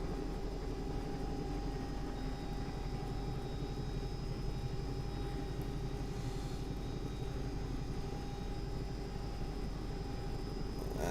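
A Bell 222 air ambulance helicopter in the X-Plane 11 flight simulator spins up for takeoff, giving a steady, loud, continuous engine whine and rotor drone that holds throughout with no talking.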